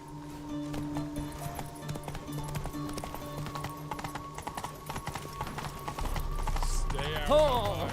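Roach, a horse in the video game The Witcher 3, gallops with steady clip-clop hoofbeats amid game music and ambience, growing louder near the end, with someone talking over it.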